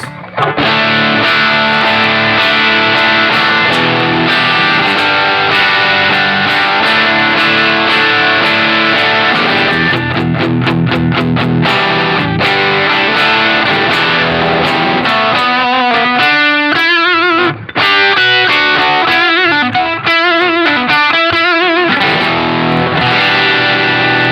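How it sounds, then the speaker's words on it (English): An electric guitar plays through an Earthquaker Devices Special Cranker overdrive pedal with the gain all the way up: heavily overdriven, high-gain distortion, sustained chords giving way to choppy rhythmic strums, loud and alone. "it's definitely like a light distortion or a lighter overdrive, mid-range overdrive"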